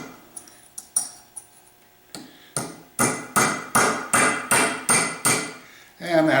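Metal hammer blows on the crankshaft parts of a 63-year-old IR 242 air compressor during teardown, a few scattered strikes and then a steady run of loud, evenly spaced ringing impacts, close up.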